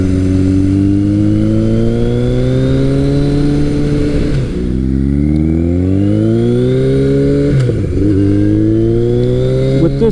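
A Kawasaki KZ1000 motorcycle fitted with a Delkevic exhaust runs at full throttle on a test ride. It gives a loud, continuous engine roar that rises through the gears, with two brief dips at the shifts before it climbs again.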